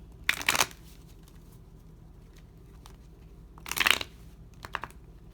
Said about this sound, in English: All right, so I'm going to pull some love oracle cards.